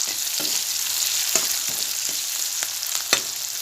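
Thickly cut onions and garlic sizzle steadily in a pan while a spatula scrapes and stirs every half second or so, close up and with no voices.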